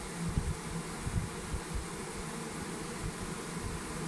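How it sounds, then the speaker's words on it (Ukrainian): A swarm of honeybees crowds into a hive after gathering from a swarm trap, making a continuous close buzzing hum with slight fluctuations, and no other sound stands out. "і всі з роєловки гуртуються і йдуть таким строєм і йдуть прямо у вулик"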